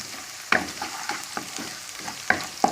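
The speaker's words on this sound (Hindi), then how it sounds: "तो ये प्याज हमारे ब्राउन हो रहे हैं" Onions fry and brown in a pan with a soft, close sizzle, broken by several sharp spatula taps and scrapes at irregular intervals.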